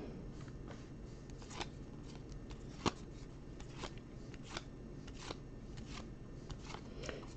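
Trading cards from a sports card pack being handled during a live pack break, a run of soft papery flicks and slides at close range with one sharper snap, with no one talking.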